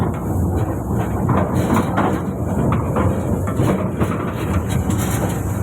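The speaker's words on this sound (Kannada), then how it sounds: "ಟ್ರೈನ್ ಪ್ರಯಾಣ ಮಾಡ್ತಿದ್ದೀನಿ" A train rumbles steadily along the rails with a continuous low roar and faint rhythmic rattling, close and loud throughout, heard on board.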